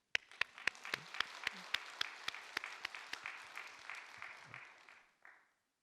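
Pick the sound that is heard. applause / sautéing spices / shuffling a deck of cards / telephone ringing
applause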